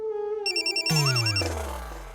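A telephone rings with a loud electronic ringtone, a quick melodic pattern of bright tones that plays alone with no talk.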